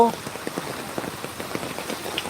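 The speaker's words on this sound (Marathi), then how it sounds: "नवी मुंबईमध्ये खूप जोराचा पाऊस आहे" Heavy rain pours steadily in Sanpada, Navi Mumbai, with dense patters and drips spattering onto a nearby surface at a fairly loud level, and no one talking.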